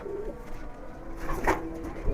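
Pigeons, kept tumbler pigeons, cooing in a soft, low, throaty burst that rises briefly near the end, fairly close against faint background noise.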